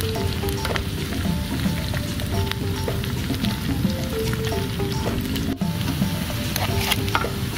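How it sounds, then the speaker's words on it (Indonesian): Onions stir-fried in a pan until wilted give a steady, loud sizzle with soft stirring scrapes and clicks throughout, without any talking. "Aduk-aduk sampai layu ya"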